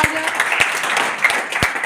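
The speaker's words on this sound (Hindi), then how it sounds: "जोरदार तालियां" A crowd at a school World Environment Day event applauds the third-place exhibition winner, with brisk, steady clapping throughout and a few sharper claps near the front.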